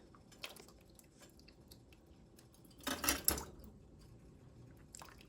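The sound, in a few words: hot tomatoes being ladled into canning jars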